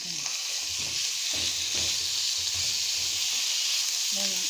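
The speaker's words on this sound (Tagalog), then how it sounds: "Gigisa na natin yung giniling natin." Ground meat sautéing in a pan for Filipino ginisang Baguio beans, a loud, steady frying sizzle with stirring scrapes throughout, close and continuous.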